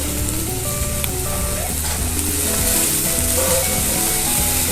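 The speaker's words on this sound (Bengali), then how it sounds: "গোটা জিরে দেব।" Whole cumin seeds frying in mustard oil with chopped onions: a steady, near crackling sizzle with scattered light pops and the occasional scrape of stirring.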